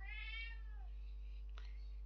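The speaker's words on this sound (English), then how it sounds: "that was my cat" A domestic cat gives a single clear meow lasting under a second, close and fairly loud in a quiet room, followed by a faint short rustle.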